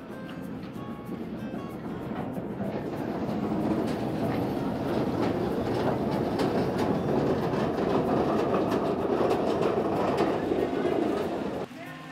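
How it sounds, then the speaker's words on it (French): A hydraulic funicular lowering and raising its wagons at Bom Jesus in Portugal gives a steady, loud rumbling clatter of rolling cars that continues throughout, then drops off abruptly near the end. "C'est un système hydraulique qui fait descendre et remonter les wagons."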